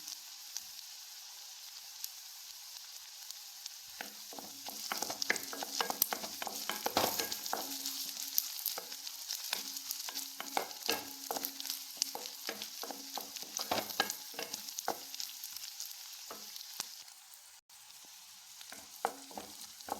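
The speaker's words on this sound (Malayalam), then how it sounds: "ഇനി നമുക്ക് കുറച്ച് കറിവേപ്പില ഇട്ട് കൊടുക്കാം." Curry leaves crackle and sizzle in hot oil with frying chilli for chammanthi, a steady close spitting hiss broken by stirring scrapes, quiet at first and then rising. No one talks.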